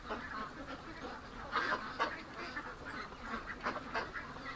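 A duck gives a string of nasal, raspy quacks in uneven bursts, fairly close and moderately loud against a faint hiss.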